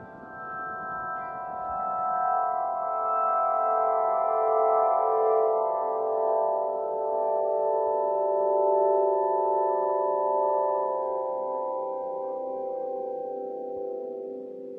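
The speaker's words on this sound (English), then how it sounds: "here's an Aeolian harp. It's on the south coast of Ireland." An Aeolian harp sounded by the wind on the south coast of Ireland gives a soft, steady drone of layered sustained tones that swell and fade slowly, with faint wind noise underneath and no voices.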